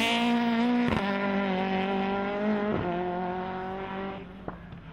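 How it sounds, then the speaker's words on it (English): A Renault Clio 172 Cup rally car on a promenade stage at the 2014 Promenade Stages holds a steady, buzzing engine note, with short sharp breaks as it shifts through the gears, fairly near with no talk. "are Steve Quigley and Steve Lewis in the little Renault Clio 172 Cup"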